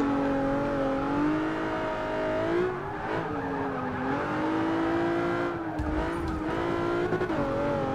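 Mercedes race car in Forza 6 on the Rio circuit, its engine droning steadily and shifting pitch as it accelerates and brakes, with brief tire noise, loud and close throughout with no talking.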